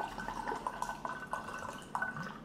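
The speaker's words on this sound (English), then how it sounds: "So let's pour the wine first." Liquid trickles and drips as wine is poured from a bottle, a soft, close splashing with irregular little gurgles and no talking.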